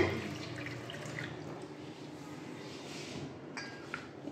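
Water runs steadily into a container in a kitchen, refilling it after the old water was poured out during green-mango morabba making. It is a continuous close splashing rush with a few faint clinks and drips toward the end.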